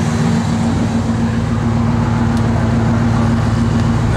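A 1968 Plymouth Fury III fastback engine running in a steady, loud, close drone with a constant low hum and no change in pitch. No one talks over it.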